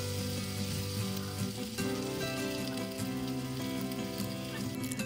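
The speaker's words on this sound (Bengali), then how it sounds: "এবার যে আলুগুলো সিদ্ধার্থ কেটে দিয়েছে সেইগুলোকে দেব, আর আলুটা একটু হালকা ভাজা ভাজা করব।" Cut potatoes fry lightly in oil in a home kitchen, a steady sizzle and crackle running under a constant mechanical hum, with a few clicking scrapes from stirring.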